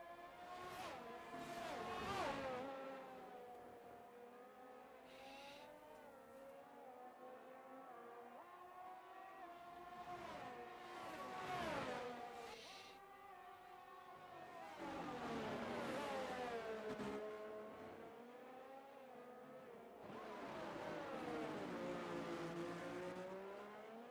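F2 race cars screaming around the Singapore street circuit in a racing video game, engines rising and falling through gears as they pass, with a commentator talking over the continuous roar.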